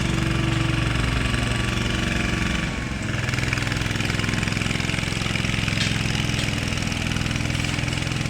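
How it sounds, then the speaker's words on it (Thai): A Kubota KRT140 small tractor engine running at a steady idle, a continuous close chugging drone with a slight dip partway through. "เป็นรถไถขนาดเล็กนะครับ"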